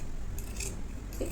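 Scissors snip through blouse fabric during full-sleeve blouse cutting, giving a few quiet, short crisp cuts against a soft background hiss.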